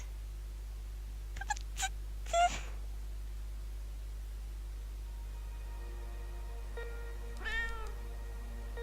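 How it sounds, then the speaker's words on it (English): A cat meows several times in the video game Tokyo Dark, short separate calls over a steady electronic hum, with a longer wavering meow near the end. "Cat!"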